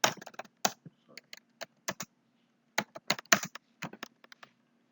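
Fingers type on a computer keyboard in irregular bursts of close, crisp key clicks with short pauses between.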